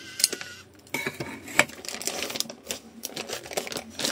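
Scissors cut through plastic drawn with a 3D pen, giving a quick run of sharp, close clicks and snips with brief pauses between them.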